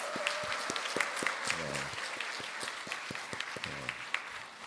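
A conference audience applauds two honored guests, a table tennis champion and a ship captain: steady clapping from a hall full of people, crisp individual claps audible, while a voice speaks briefly over it twice.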